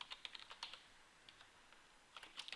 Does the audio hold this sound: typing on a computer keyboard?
yes